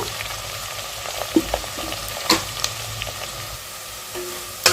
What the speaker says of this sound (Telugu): ఉల్లిపాయలు అనేవి ఇలా వేగితే సరిపోతుందండి చూసారా బ్రౌన్ కలర్లోకి వచ్చినాయి